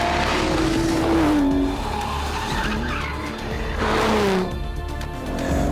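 An Aston Martin DBS driven hard through left and right corners on a circuit, engine roaring loud and close as the tires squeal in drawn-out, pitch-sliding screeches, easing off briefly before surging again.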